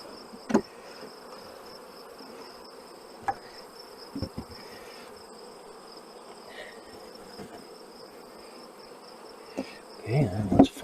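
Honey bees buzz faintly around open nuc boxes during a transfer, a thin steady hum with scattered soft clicks and knocks of equipment, growing briefly louder near the end.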